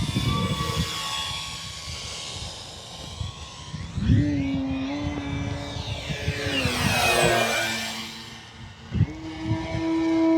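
Small RC Arrows Husky Ultimate 1.8 m model airplane with an electric motor, whining steadily at partial throttle. Its pitch rises and falls as it passes near and then away, with wind noise but no talk.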